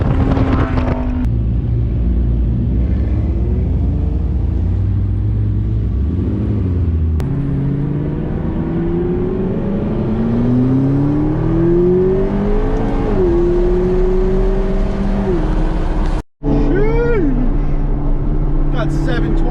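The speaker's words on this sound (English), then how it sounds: "when you got like 50 supercars ripping down the interstate like that" A convoy of about fifty supercars, McLaren 720S among them, rips down a California interstate with loud, continuous engine roar, rising revs and exhaust pops, while people talk over it.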